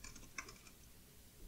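Quiet, close typing on a computer keyboard, with a few soft key clicks in a brief cluster and faint background hum.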